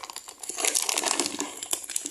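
Plastic packaging of a toy construction vehicle set, including a rock-crusher excavator, crinkles and rustles close up in quick irregular handfuls, fairly quiet, with no talking.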